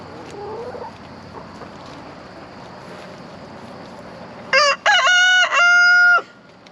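Chickens being fed fresh greens, with soft faint clucking at first and then a loud nearby rooster crow in several drawn-out bursts toward the end.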